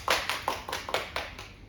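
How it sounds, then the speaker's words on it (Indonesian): A small classroom group claps for group 2, about seven or eight distinct, fairly close handclaps at a steady rhythm, with nothing else heard. "mungkin bisa beri tepuk tangan untuk kelompok 2"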